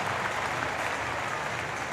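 A packed stadium crowd at the 2017 World Para Athletics Championships in London roars with a big, sustained cheer and applause, a dense wall of sound that stays loud and steady throughout.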